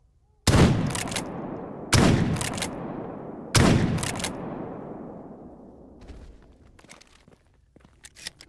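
Three loud, sharp gunshots crack out in the video game STALKER GAMMA, each leaving a long rolling echo across open ground, followed by fainter scattered distant shots and small clicks.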